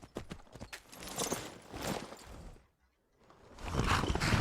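Horse hooves clopping in Skyrim, the video game, with a Middle-earth mod: a run of hoof beats and movement noises, then a brief lull before the clatter returns, moderately loud and close.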